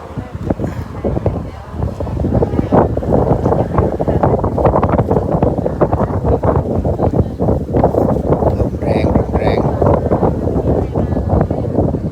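Strong wind buffets the microphone outdoors in a steady, loud roar with gusty rumbling throughout; a voice speaks faintly within the noise.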